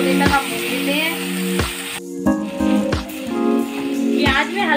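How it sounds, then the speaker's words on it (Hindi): Onion-garlic puree with red chili fries in a pan, a steady close sizzle broken by the scrape and clink of a stirring spoon, with a voice talking lightly over it. "इसे हल्का गोल्डन ब्राउन होने तक आप भून लेते"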